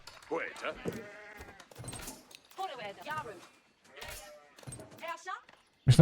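Sheep bleat from the video game Age of Empires IV, several wavering calls in quick succession, with someone talking over them.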